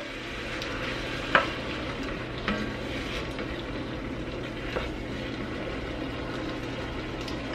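Canned fire roasted tomatoes going into a hot pot with a steady sizzle and a few stirring clinks and knocks of a utensil, close and fairly quiet, with no talking.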